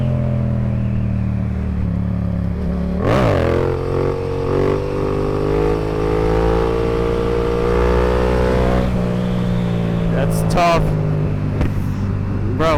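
Several CF Moto motorcycles riding past outside the Moto America event at Michelin Raceway, engines rising and falling as they pass close by under a steady motor drone, with a few sharper revs near the end.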